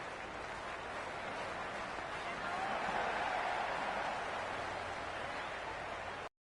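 Excited crowd noise fills a cricket stadium during an India versus Zimbabwe T20 match in the Cricket 26 video game, a steady broad roar that swells slightly midway and then cuts off abruptly.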